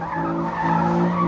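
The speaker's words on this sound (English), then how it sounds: "It wants to drift when you're going around curves" Infiniti Q60 sports car with a manual gearbox sliding through a curve, a steady sustained tire squeal over engine drone, loud and close for about a second, with no talking.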